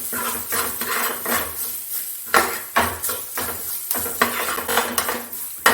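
Egg bhurji is stirred in a pan: repeated metal spoon scrapes and clacks against the pan in an uneven rhythm over a light sizzle, close up, with no talking.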